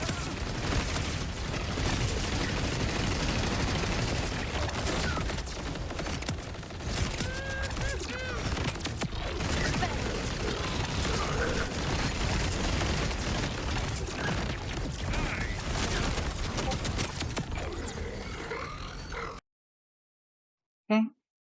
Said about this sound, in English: sometimes our missiles will be firing in slow motion